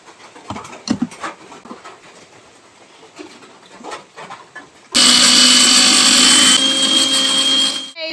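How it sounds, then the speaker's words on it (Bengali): An electric mixer grinder in a home kitchen starts up and runs loud and steady for the last few seconds, with an even high whine after quieter handling noises. "এই দেখো আমার মিক্সারটা দেখো বন্ধুরা"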